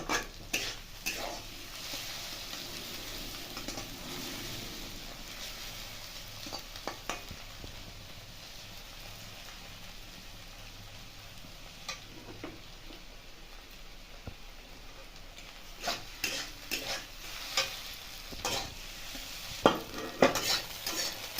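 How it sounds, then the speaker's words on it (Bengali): A spatula scrapes and stirs potatoes with egg frying in a pan, a soft sizzle running underneath while irregular metallic scrapes and clinks come and go, growing busier toward the end, with no voices. "আলুর সঙ্গে এরকম ভালো করে ঘুরিয়ে ঘুরিয়ে মিশিয়ে ভেজে নেব"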